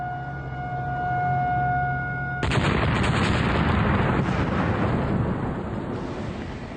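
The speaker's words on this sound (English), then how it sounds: "More dynamite caps are placed in the hole before the explosion is triggered." Warning siren tones hold steady, then a dynamite blast at a Three Gorges construction site erupts into a loud, sustained roar of broadband noise that fills the rest of the stretch.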